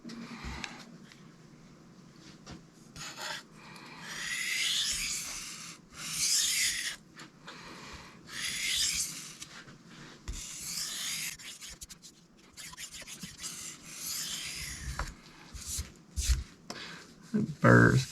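A Cold Steel Mayhem knife blade scrapes across Sharpal 162N and Shapton Kuromaku 10 whetstones in repeated close rasping strokes, with short pauses between passes and a voice talking at times.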